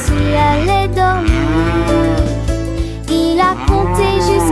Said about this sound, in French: Elle meuglait bruyamment sans aucune inquiétude.